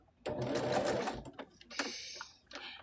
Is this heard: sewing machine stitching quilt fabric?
yes